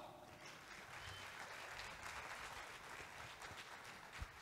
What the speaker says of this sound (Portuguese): Então eu quero muitas palmas para o prata da casa, Hugo Noah!